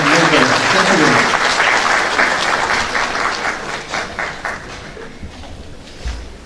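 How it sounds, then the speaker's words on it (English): An audience at an agricultural innovation conference breaks into loud, dense applause that slowly tapers into scattered claps, with faint voices underneath toward the end. "May I kindly request you to give him a big applause"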